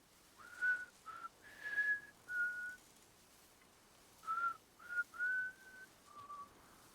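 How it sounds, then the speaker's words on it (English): A person whistles close into a microphone, a string of short, clear melodic notes in two bursts separated by a brief pause, loud and alone with no talking. "Listen, don't whistle into the microphone."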